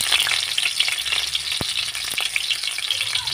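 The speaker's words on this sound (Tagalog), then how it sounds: "Dahil mainit na ang ating mantika, ilagay na natin ang ating bawang at saka sibuyas guys." Garlic and onion sizzle in hot oil in a pan, a steady close crackling hiss with a few sharp pops, no voices.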